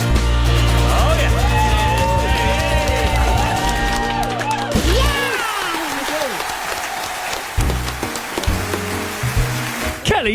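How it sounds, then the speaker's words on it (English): A studio audience on a live breakfast radio show applauds and cheers after a song, a loud, dense wash of clapping that fades while music and people talking carry on over it. "Another round of applause."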